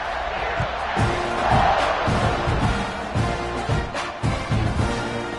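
Stadium crowd cheering during a video game football broadcast, a steady roar with rising swells and scattered shouts and thumps, heard up close throughout.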